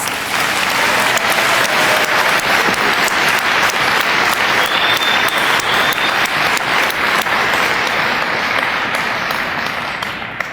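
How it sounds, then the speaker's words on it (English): An audience at the Northcentral Technical College spring graduation ceremony claps loudly and continuously for about ten seconds, a dense, even wash of applause that tapers slightly at the end. "Let's give them a round of applause"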